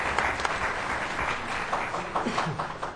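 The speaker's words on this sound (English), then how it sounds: "Let's give him a round of applause." Audience applause at a university student dialogue event, a steady wash of many hands clapping that fills the whole moment, fairly close and even with no voices on top.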